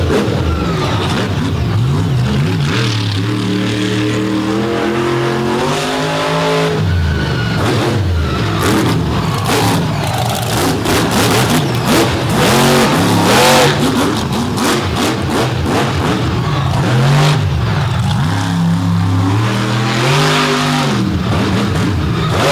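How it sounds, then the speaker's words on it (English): A Ford-bodied race car on a metal shop chassis with an Oldsmobile engine revs loudly and close at a drag event, its engine note climbing and falling through repeated throttle blips and sustained roaring pulls. "show off the assets of this awesome Ford-bodied metal shop chassis. Kevin Stauffer powered Oldsmobile engine machine right here, the Illuminator, Corey Snyder."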